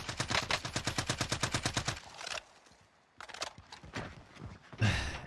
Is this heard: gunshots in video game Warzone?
yes